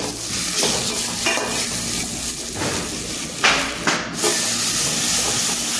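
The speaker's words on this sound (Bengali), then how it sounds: "ওই তেলের মধ্যে পেঁয়াজগুলো কাঁচা লঙ্কাগুলো দিয়ে দিলাম।" Onions and green chillies hit hot oil left from frying potatoes, giving a loud, steady sizzle and hiss with bursts of stirring and scraping, close by, with no talking.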